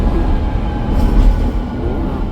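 Loud, steady low rumble of a metro train running, heard from inside, with a continuous rolling drone and faint rattling.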